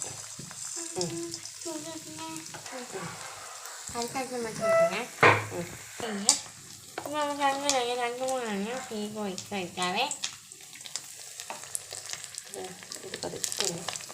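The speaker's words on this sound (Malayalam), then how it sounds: "എണ്ണ ചൂടായി വന്നിട്ടുണ്ട് നമുക്കതിലേക്ക് പതിയെ വെച്ച് കൊടുക്കാം" Egg bajji deep-fries in hot oil, thattukada style, a crackling sizzle that runs under a prominent melodic voice or music with bright sustained tones and scattered louder pops.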